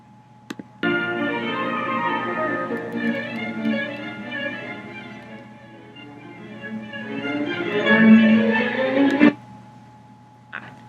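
Orchestral passage from the Scherzo of Beethoven's Symphony No. 2, the digression opening the second reprise, with dense sustained harmonies and shifting string and wind lines that swell to a loud peak near the end before cutting off, with no talk.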